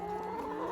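Hens make low, droning clucks in a frozen winter farmyard while they feed, sounding close and continuous with a faint background murmur.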